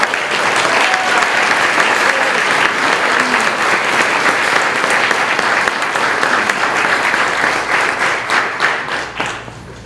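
A gala audience honoring a local high school student applauds warmly for about ten seconds, a full, even roar of clapping with a few distinct claps, fading gradually at the close.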